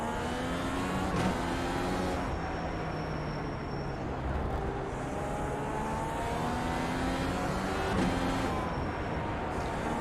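An IndyCar race engine drones steadily on an outlap at Laguna Seca in a racing sim game, with rising and falling revs and gear changes, loud and continuous and close, with no voices.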